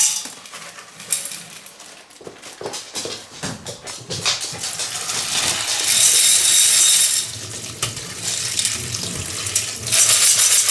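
Tap water runs steadily over soybeans in a kitchen sink, splashing and hissing loudly with intermittent clatter of a bowl and shifting beans as the flow changes.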